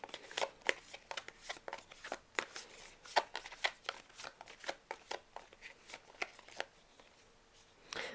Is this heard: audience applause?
no